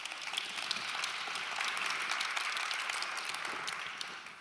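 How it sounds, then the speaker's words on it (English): An audience breaks into steady applause, a dense wash of many hands clapping at a moderate distance for several seconds before tapering slightly, with no talking over it. "So now you can applaud."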